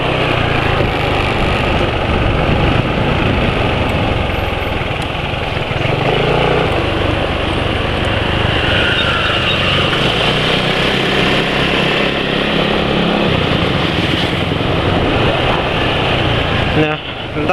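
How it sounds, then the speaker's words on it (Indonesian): A loud, steady motorcycle engine running on X-TEN 20W50 oil idles continuously with a rough, rumbling drone that fills the whole stretch. "Ini ya suara mesinnya."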